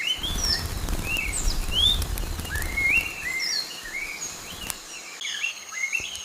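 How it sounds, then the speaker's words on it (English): Babblers in a flock give whistled, chirping calls in a lively chorus in a Sri Lankan rainforest, with a steady patter of background noise underneath. "when you hear the babblers coming, you get your binoculars up"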